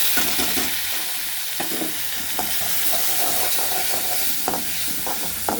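Ginger garlic paste sautés in oil with whole spices such as cardamom in a pan, a continuous close sizzle broken by soft scraping stirs.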